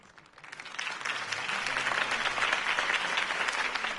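Crowd applause following a campaign speech in the Batman Telltale series, swelling quickly from quiet to a full, sustained roar of clapping that stays broad and even.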